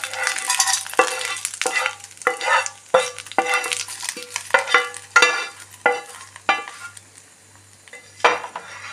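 Curry leaves frying in oil in a pan, stirred with repeated scraping strokes of a utensil over a steady sizzle, close and fairly loud with no talk.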